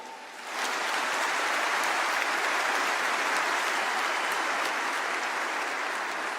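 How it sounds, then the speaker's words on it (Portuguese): A church congregation at a sermon breaks into applause, the clapping rising abruptly after a half second and then holding as a loud, even, rain-like wash until the end. "Aplauda essas mulheres"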